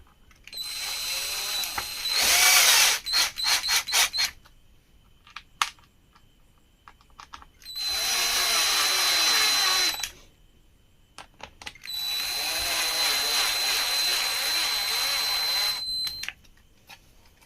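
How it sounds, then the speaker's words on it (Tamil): A power screwdriver drives screws into the coil of a Preethi Regal induction stove under repair, three whirring bursts of a few seconds each with clicks and handling noises between them, close and loud. "நம்ம காயிலுக்கு மறக்காமல் ஸ்க்ரூ போட மறந்துடாதீங்க காயிலுக்கு ஸ்க்ரூ போட்டுக்கலாம்"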